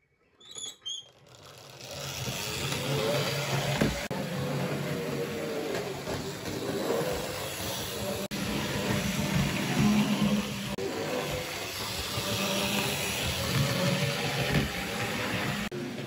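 A Finecast Taff Vale 0-6-2T model tank locomotive runs in reverse, making a continuous whirring, rattling motor hum that stays fairly steady and close after a brief start, with no voices.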